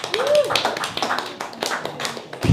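Scattered applause from a small audience at a stand-up comedy open mic, irregular individual claps coming close and sharp, with a voice heard briefly at the start.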